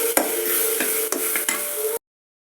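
Garlic, shallots, cumin, dried chili and curry leaves sauté in a pan for tomato rasam, a steady sizzle broken by several sharp scraping stirs before cutting off abruptly.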